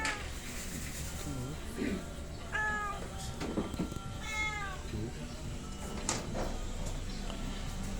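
Several cats meow at a rural home in Bulacan where a litter of newborn kittens lives, with short moderate cries scattered across the scene while people chat nearby.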